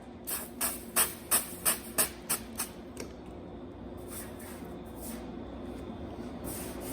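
Water is spritzed from a spray bottle onto hot, heat-shrunk car body metal in a quick burst of several sharp squirts. A faint, steady steam hiss lingers afterward in a quiet setting.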